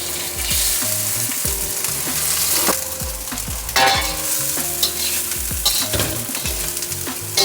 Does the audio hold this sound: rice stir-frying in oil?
yes